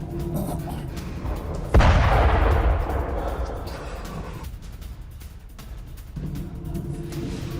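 Air defense interceptor missiles fired during the Russia-Ukraine war, with one sudden heavy boom followed by a long rolling rumble that slowly fades under distant background noise.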